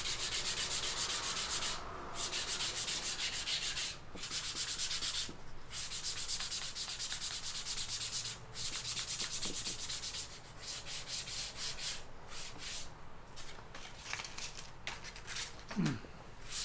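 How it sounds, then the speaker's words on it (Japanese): A leather tote bag is hand sanded with 320 grit sandpaper, giving a steady, close, continuous rasping rub with brief pauses between strokes. "今のはもうさっきのサンドペーパーの下仕事なんだけど第2段階の下仕事"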